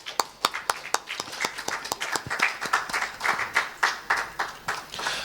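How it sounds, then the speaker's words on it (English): A small seminar audience claps for the moderator, with distinct, fairly close hand claps in an uneven rhythm that thickens into a brisk patter and then tapers slightly. "Please, a round of applause for him."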